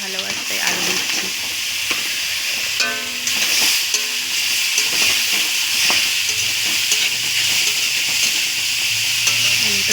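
Thinly cut potatoes frying in white oil in a wok for homemade chow mein, a steady loud sizzle and hiss with occasional stirring clinks throughout.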